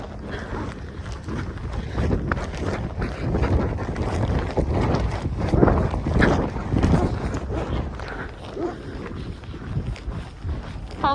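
Cold, gusty wind buffets the microphone outdoors at a village cattle pen, a steady, close, rumbling roar that swells and eases throughout with no clear voices.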